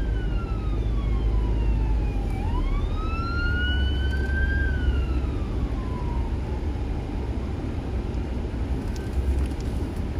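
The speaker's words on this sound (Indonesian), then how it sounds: "Dia mau ambulan lewat tengah." Ambulance siren passing through traffic in Central America, wailing then sweeping up and down as it moves past, heard from a vehicle over steady road rumble with no talk.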